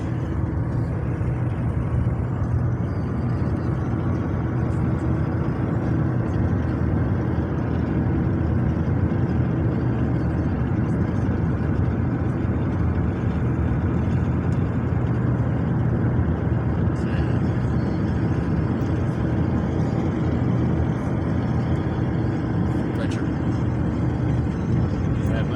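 Steady low engine rumble and road noise inside a moving car, constant and fairly loud throughout with no break.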